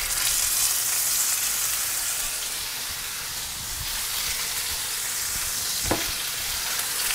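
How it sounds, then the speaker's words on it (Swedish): Steady, loud sizzling of a beef roast frying in tallow in a hot pan, a continuous crackling hiss with a brief sharper pop near the end. "Nu medan jag steker köttet"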